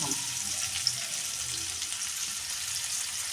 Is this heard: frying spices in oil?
yes